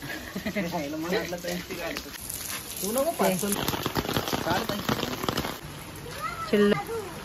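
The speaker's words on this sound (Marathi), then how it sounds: "आणि पाऊस आला." Rain falls steadily as people walk home, a broad hiss running throughout under several voices talking nearby.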